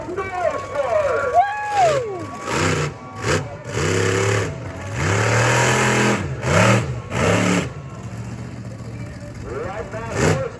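Monster truck engine revving while struggling through deep mud at a live show, rising and falling in repeated loud bursts of throttle with short pauses between, close and powerful.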